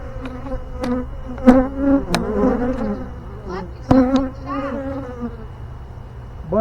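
Honey bee swarm buzzing around a hive: a close, wavering hum of many bees rising and falling, with a few sharp knocks.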